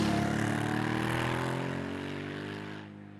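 A 2018 Aprilia Shiver 900 motorcycle engine pulls hard under throttle, a loud, close, steady harmonic drone whose pitch falls slightly before fading near the end.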